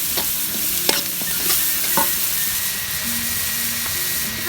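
Spice paste is stir-fried in a pan until fragrant, giving a close, steady sizzle with scraping stirs at intervals and a few sharp clinks of the utensil against the pan.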